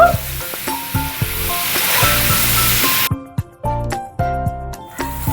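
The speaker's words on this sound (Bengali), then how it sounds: "এবার ভালো মতন করে একটু লাল লাল করে কফিগুলো ভেজে নেব" Cauliflower and peas sizzling and frying in a hot pan, with repeated scraping and clanking of a spatula stirring against the metal, no voices.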